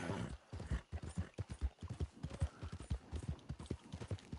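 Horse hooves clip-clop in Red Dead Redemption 2, a close, steady run of rhythmic thudding steps at a trotting pace, clear and prominent with no talking over them.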